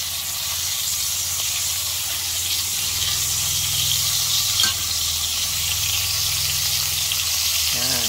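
Sausages sizzle and spatter in hot oil, a steady crackling hiss close by, with a brief clatter of stirring near the end.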